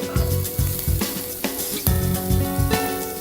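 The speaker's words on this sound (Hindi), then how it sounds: "प्याज को भूरा होने तक हम पकाएंगे।" Finely chopped onion hitting hot oil with ginger and garlic, sizzling loudly in bursts as it is stirred, with repeated low thumps and scrapes of the spoon against the pan.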